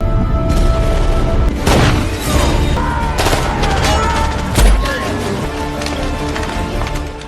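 Gunfight from the action film The Marine 2, with loud dense bursts of gunfire and booming impacts running continuously under a dramatic music-heavy soundtrack throughout.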